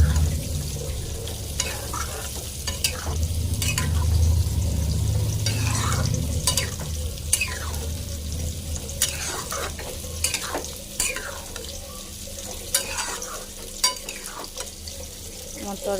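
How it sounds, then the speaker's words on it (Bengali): A vegetarian ash gourd and lentil curry, with coriander leaves just added, is stirred in a pan: repeated close spoon scrapes and clanks come in a loose rhythm over a soft, continuous sizzle, with no talking. "এবার নাড়িয়ে নেব।"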